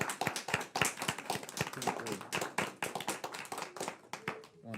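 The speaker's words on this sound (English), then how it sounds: "let's celebrate you with a round of applause" A small audience gives a round of applause at an event, scattered individual hand claps that come in an uneven, fairly sparse rhythm, close and distinct, then thin out and fade near the end.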